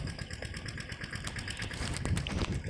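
Tractor engine running steadily at a rural temple gathering, a mid-pitched mechanical drone with rapid knocking pulses, moderately near and fairly even in loudness, no talk.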